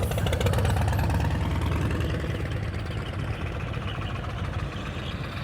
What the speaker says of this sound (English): This is cool that your bike sings to you.